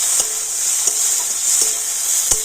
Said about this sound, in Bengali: টমেটো তো একটা টমেটো আমি কুচিয়ে নিয়েছি তো দিয়ে দিলাম টমেটোটা একটু নাড়াচাড়া করে নেব এইভাবে